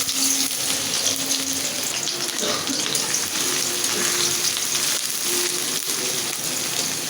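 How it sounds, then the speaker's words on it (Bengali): Onion fries in hot oil with a loud, dense, continuous sizzle held close for several seconds, a faint hum running beneath it. "আমার তেলটা গরম হয়ে গেছে এখন আমি পেঁয়াজটা দিয়ে দেবো"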